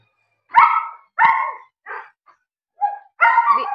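A dog barks five times in short, sharp bursts, fairly loud and close, with brief quiet gaps between barks.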